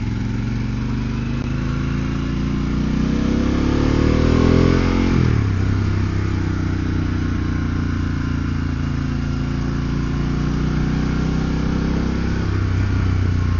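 Motorcycle cruising along a scenic road toward an overlook, steady engine drone close by with wind noise, a brief rise in revs then a gear change settling into an even hum, no talk.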